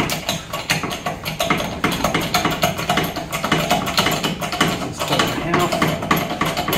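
Trailer tongue jack cranked to raise the hitch, a steady run of rapid ratcheting clicks and mechanical grinding, close and fairly loud, continuing evenly throughout.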